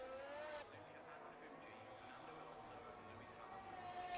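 A race car in the F1 2023 game snarls through the final corner at Suzuka, Japan. The engine note is high and steady and shifts partway through, with a commentator's voice running over it.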